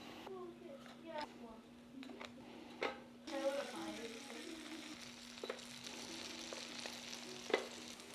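Butter and oil frying in a pan for a Spam breakfast, a soft steady sizzle close by beneath someone talking, with a brief louder burst as food goes into the pan.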